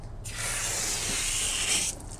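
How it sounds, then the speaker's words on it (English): A steady hiss of water misted from a spray bottle under a car's fender well, one continuous burst lasting under two seconds, close and fairly loud. "if I just give it a couple sprays of water under the fender well"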